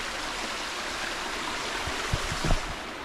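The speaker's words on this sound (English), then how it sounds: "We've got cascades, a little mini waterfall up there." A woodland stream cascading over a small waterfall in a state park, a steady, close rushing hiss of falling water with a few brief low thumps near the end, no talking.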